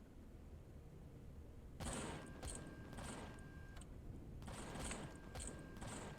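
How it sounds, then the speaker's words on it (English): Gunfire from a retractable lower gun turret in a video game, heard as two separate bursts of rapid mechanical shots at moderate distance over a low, steady background hum. "No, stop shooting at that."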